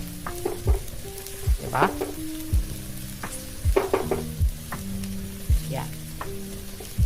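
Leftover rice and adobo fry in a pan with a continuous sizzle, punctuated by regular scraping stirs of a spatula. Someone speaks briefly over the cooking.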